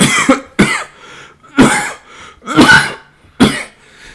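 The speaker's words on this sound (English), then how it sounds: "the more I talk, the more I cough" Five separate harsh coughs, loud and close, spaced irregularly with short quiet gaps between them.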